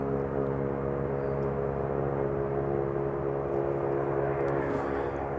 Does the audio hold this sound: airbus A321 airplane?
yes